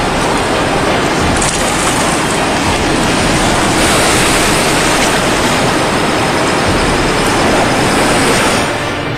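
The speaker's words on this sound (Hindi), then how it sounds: "सियांग नदी में पिछले दो हफ्तों से कुछ कुछ जगहों पर 2 मीटर तक ऊंची लहरें उठ रही हैं" High waves up to two metres roll on the Siang river, a loud continuous roar of rushing water and wind with no pauses and no voices.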